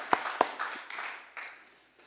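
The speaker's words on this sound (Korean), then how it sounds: "누군지 잘 모르시더라도 우리 박수로 우리 환영하겠습니다" A church congregation claps during a Sunday worship service to welcome first-time visitors, with a few sharp individual claps at the start giving way to softer, scattered applause that fades out quietly.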